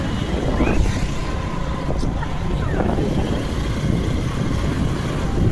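Wind roars into the microphone while riding a bike in cool air, a loud, steady buffeting rumble that continues throughout with no break.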